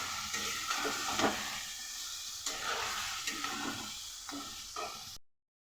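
Food sautéing and being stirred in a hot pan, a steady sizzle with periodic scraping stir strokes, close and fairly quiet, ending abruptly.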